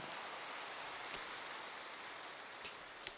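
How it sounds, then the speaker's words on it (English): Minecraft rain hisses as a steady, even wash of faint patter, with no voices over it. "And it's raining again."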